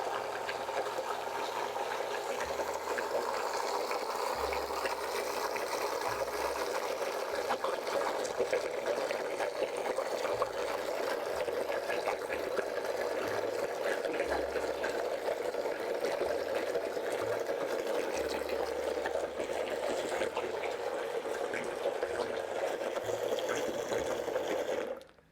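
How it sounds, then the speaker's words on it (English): A blender whirs steadily at low speed while liquid agar pours and sloshes in, a continuous watery churning that stops abruptly at the end. "I have my blender still here set up, and we're going to pour the agar in there while it's turning."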